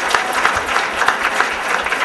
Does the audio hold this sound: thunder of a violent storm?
no